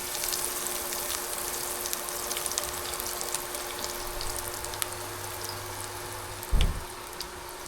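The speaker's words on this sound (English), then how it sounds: "Watch the sizzle" Steady crackling sizzle of crumbed food frying in a hot pan, a low hum underneath and a brief clatter near the end.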